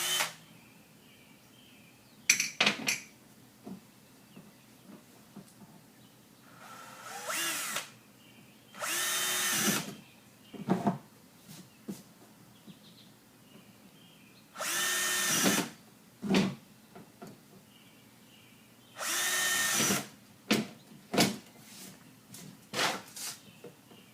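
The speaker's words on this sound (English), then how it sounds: "The first step is to drill 20 holes in the bottom of the tub" A power drill with a 1/4 inch bit bores holes through the bottom of a plastic tub bin, loud whining bursts of a few seconds each, repeated about six times with quiet pauses and small handling clicks between.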